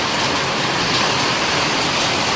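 Heavy rain that has poured for an hour, a dense, steady, loud roar of falling water with no breaks and no voices.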